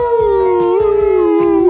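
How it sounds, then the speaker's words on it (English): A sound-effect howl like a dog or wolf, loud and close, rises in one long sustained wavering cry with slight pitch bends, heard alone. "Extra howl."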